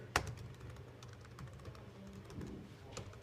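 Typing on a computer keyboard while entering work into an evaluation document, heard as a sharp opening tap followed by faint, scattered key clicks under a low steady room hum.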